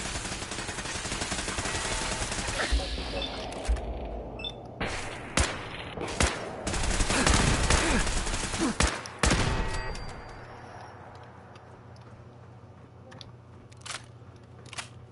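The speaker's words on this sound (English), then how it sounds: "I gotta fix that plasma gun first. Because, oh my god, that is so bad. It's like an automatic" Automatic plasma gun fire in Fallout 4, heard as bursts of rapid sharp shots with several loud spikes over a busy, noisy game background, easing into a quieter low hum near the end.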